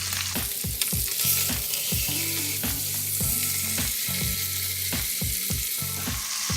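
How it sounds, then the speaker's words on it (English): Ribeye steaks searing on their sides in a hot pan, a loud close sizzle with repeated crackling pops and rhythmic scraping bursts throughout. "what I'm going to do is I'm going to put both steaks on their side for about 20 to 30 seconds each"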